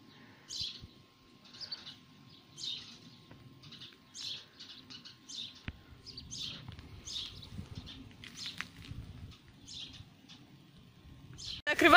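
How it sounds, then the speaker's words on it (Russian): Birds crowded along a rooftop antenna chirp in repeated short bursts throughout, fairly close and bright, over a faint low background hum. "Ой, гляньте на антенну, там все облеплено. Все в птичках."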